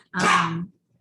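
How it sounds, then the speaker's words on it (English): A single short, loud bark or yelp from a dog indoors, lasting about half a second and then silence. "You can hear my dogs in the background"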